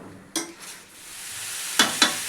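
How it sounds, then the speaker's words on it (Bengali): Katla fish heads sautéing in a pan with a little hot water for a Bengali moong dal, heard as a soft sizzle with a few sharp stirring scrapes against the pan. "মাছের মাথা দুটো দিয়ে দিচ্ছি, মাছের মাথাগুলো দিয়ে একটু কষবো"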